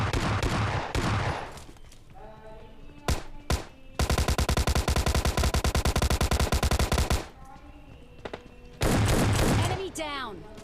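Gunfire in the battle game PUBG Lite: short bursts and single shots, then a long rapid automatic volley lasting a few seconds, with someone talking in between.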